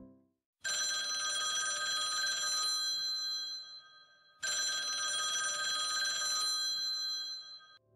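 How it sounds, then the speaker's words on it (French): A telephone ringing indoors, two long electronic bell rings separated by a short pause, loud and clear with nothing else heard. "J'allais appeler tante Mimi"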